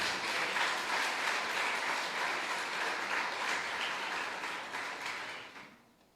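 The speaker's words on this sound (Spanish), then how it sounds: "Denle un fuerte aplauso al Señor." Congregation at a church service applauding loudly and steadily, a dense sustained wash of many clapping hands that fades out at the end, with no talking over it.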